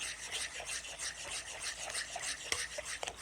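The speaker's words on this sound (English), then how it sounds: "Whisk it out to make it smooth." A whisk beating sugar-free mocha latte protein pudding mix smooth in a bowl for a cheesecake pudding pie, a quick continuous scraping rasp with fast rhythmic strokes and a few sharper clicks, close and fairly loud.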